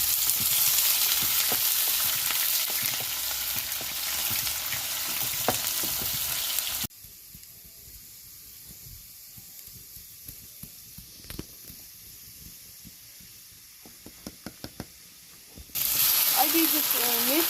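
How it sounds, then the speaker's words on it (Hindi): Whole spices and onion hit hot oil in a home kitchen, a broad steady sizzle for several seconds that drops to quiet crackles, scattered pops and a few stirring clicks, then a loud hiss surges back at the end. "तेल गर्म हो चुका है। अब इसमें हम कुछ खड़े मसाले डालेंगे। और हम इसमें प्याज डालें।"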